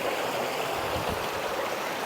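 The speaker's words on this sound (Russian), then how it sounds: "Бурная река окружает нас." A rushing river in Puerto Rico near a waterfall roars loud and close as a steady broadband wash of churning water, continuous and without speech.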